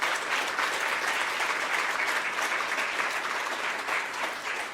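A church congregation applauds to welcome two visiting guests during a Sunday worship service, steady dense clapping filling the room from start to finish at an even level with no voices over it.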